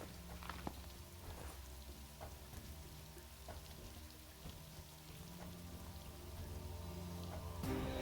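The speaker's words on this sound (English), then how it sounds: "Rain effects is pretty good." Steady rain hiss in Final Fantasy XV with soft patter and occasional louder drops, continuous throughout with no voices, swelling slightly at the end.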